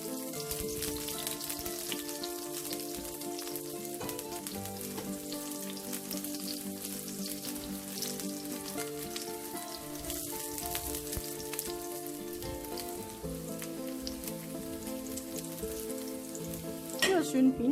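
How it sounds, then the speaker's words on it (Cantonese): Sliced garlic frying in oil in a wok while preparing black pepper beef cubes, a faint continuous sizzle close by, mixed with soft background music. "爆一爆呢個蒜片"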